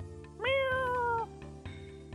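In the Albert Odyssey video game, a cartoonish cat gives a single clear meow, high and slightly falling, heard up close over looping synthesized game music with faint rhythmic ticks.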